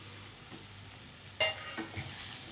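Roasted ivy gourd (tondli) being stirred into a pan of frying tomato masala: a soft sizzle under a few sharp spoon scrapes and clinks, fairly quiet and close.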